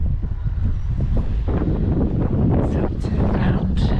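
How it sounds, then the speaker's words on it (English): Coastal wind buffets the microphone at Penmon on Anglesey, near the lighthouse facing Puffin Island, as a loud continuous rumble with gusty swells and a few sharper bursts toward the end. "Now the wind's coming this way now"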